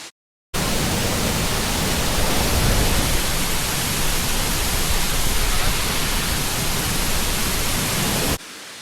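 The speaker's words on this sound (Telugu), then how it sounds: "ఇక్కడ ఇంకొక వాటర్ ఫాల్ ఉంది" A waterfall at Doi Inthanon, Thailand's highest mountain, roars as a steady, loud, dense rush of water that begins abruptly and holds unbroken for several seconds before cutting off, with no voices.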